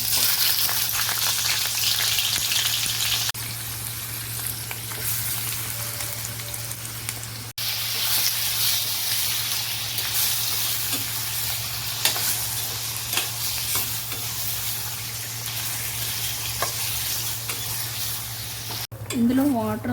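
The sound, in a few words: prawns frying and being stirred in oil in a pan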